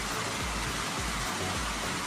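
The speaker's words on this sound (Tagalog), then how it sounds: "Habang umuulan" Steady rain falls in an even, close hiss with no talking, a constant wash of drops on a surface throughout.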